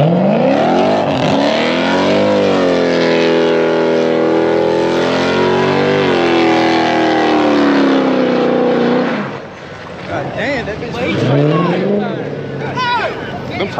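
A Dodge SRT revs hard at a street takeover in Houston, its loud engine note climbing and sustaining as the tires spin, then dropping off before more revving returns near the end, with crowd voices underneath.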